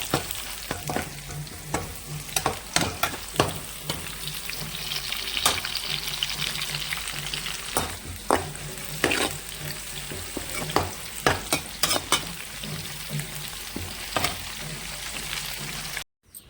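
Gongura leaves stir-fried in a pan for chutney: continuous close sizzle broken by frequent sharp spatula scrapes and taps against the pan, with no talk.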